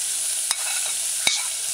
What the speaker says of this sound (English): stir in the onion with the fried codfish